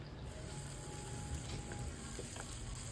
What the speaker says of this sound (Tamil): ஸோ இப்போ இது நல்லா வதங்கிடுச்சு. வெங்காயம், இஞ்சி, பூண்டு எல்லாமே நல்லா வதங்கிடுச்சு.